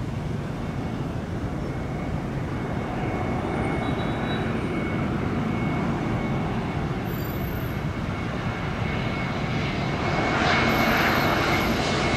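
A Vietjet Air airliner arrives from Tokyo and lands at Tan Son Nhat airport in Saigon, with a loud, continuous engine roar that holds steady throughout and swells slightly near the end.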